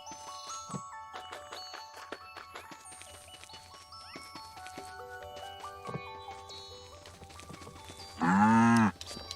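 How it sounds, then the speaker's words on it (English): A cow in the farming game Staxel gives one loud, close moo near the end, after a stretch of tinkling, melodic game music with soft clicks. "But I should milk Comrade Cookie Cow"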